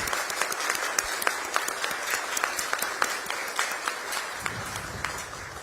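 A hall full of Korean community members gives sustained, dense applause welcoming the president on a state visit to India, steady and loud throughout with individual claps standing out, and no speech over it.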